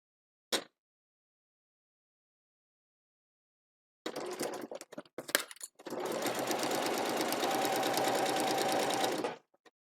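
A sewing machine stitches through a seam allowance along the outside edge. A short click comes first, then silence, then a few stop-start bursts and handling knocks, and finally a steady, close, whirring run of stitching that stops abruptly.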